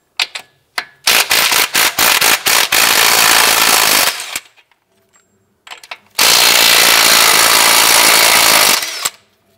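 Loud bursts of a pneumatic impact wrench rattling, removing 24 mm strut bolt nuts on a 2006-2011 Cadillac DTS, a few short hits then two long sustained runs with a brief pause between, close by.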